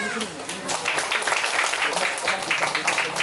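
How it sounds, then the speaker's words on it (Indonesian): Audience applause at a cultural talk on Javanese offerings, a dense, steady wash of many hands clapping that fills the whole stretch at moderate loudness. "Kira-kira tepuk tangan untuk sajen."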